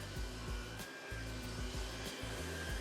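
A ProTeam ProForce 1500XP commercial upright vacuum cleaner runs steadily indoors with a loud, constant motor roar, with a few brief dips in the low hum as it moves around chairs.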